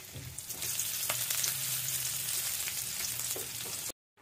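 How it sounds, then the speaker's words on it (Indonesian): Water spinach (kangkung) stir-frying in a pan, a bright, close sizzle with a few stirring knocks that runs steadily and then cuts off abruptly, with no talking. "ini aku lanjut ya untuk tumis kangkungnya"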